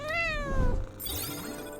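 A cat with mismatched eyes meowing in the video game Strange Antiquities: one clear, drawn-out meow that falls in pitch, followed by a shorter, rising second cry, heard alone and close.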